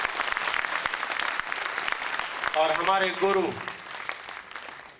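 Applause from a seminar audience welcoming leaders in Chandigarh, a steady clatter of clapping throughout while someone speaks over it midway.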